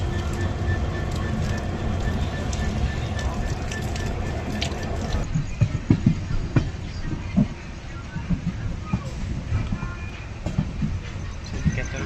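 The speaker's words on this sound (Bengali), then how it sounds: "আমাদের ট্রেন কিন্তু এনজিবি থেকে ছেড়ে দিল 6 নম্বর প্ল্যাটফর্ম থেকে" The 15675 Guwahati Intercity train departs NJP station's platform 6 with a steady rumbling roar and rhythmic clicking of wheels over rail joints, heard from on board throughout.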